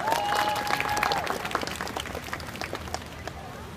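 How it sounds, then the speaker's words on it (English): An audience at a live music performance breaks into applause, dense clapping and crowd noise that starts loud and gradually thins out, with a faint tonal sound underneath. "Big round of applause."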